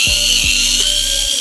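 A Mini 4WD VZ-chassis car's tire spins under motor power while being sanded with a dollar-store diamond file, giving a steady loud whine with two brief rev-up pulses.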